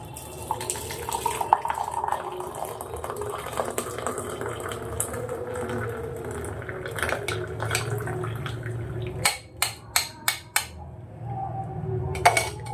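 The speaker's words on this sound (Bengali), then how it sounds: "এইবারে চাটা ছেঁকে নিচ্ছি।" Freshly brewed tea being poured through a strainer in a home kitchen, a steady trickling and splashing with a few sharp clinks of metal or glass near the end, close and without talk.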